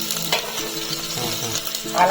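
Steady crackling sizzle of spice tempering frying in hot oil, close by, with occasional stirring noises and no speech.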